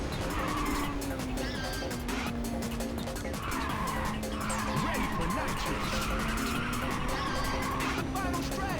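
Race car tires skid and squeal in the PSP racing game Ridge Racer (2004), long wavering squeals over a constant engine drone heard loud throughout.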